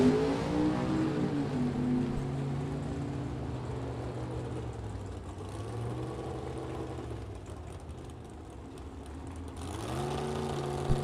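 Vintage drag race cars, including a supercharged Chevrolet Nova, heard from a distance as a sustained engine roar that rises and falls in pitch, swelling again toward the end.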